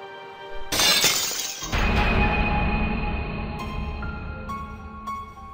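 An object slams down and shatters with a sudden loud crash, followed by a second impact and a lingering, ringing clatter of breaking pieces that slowly fades, with no voices.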